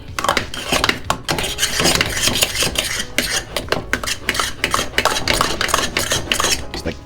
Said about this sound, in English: Let's stir it up